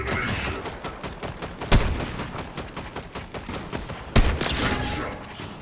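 Rapid video game gunfire in dense, overlapping volleys, with two especially loud, sharp bursts standing out near and prominent against a constant crackle of shots.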